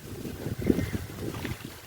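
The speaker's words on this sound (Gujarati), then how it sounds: "પવન પણ એટલો છે અને સાથે સાથે વરસાદ પણ ખૂબ જ સરસ છે" Outdoor wind during rain in a village courtyard, buffeting the microphone with a steady low rumble that swells in gusts, with no talking.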